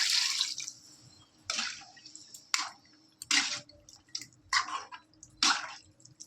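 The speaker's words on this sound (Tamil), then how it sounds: "இந்த நேரத்தில் நம்ம கொஞ்சம் தண்ணி சேர்த்துக்கலாம்." Water splashes into a pan of cooking chicken gravy in several separate bursts, poured in short pulses with pauses between them, close by and fairly loud.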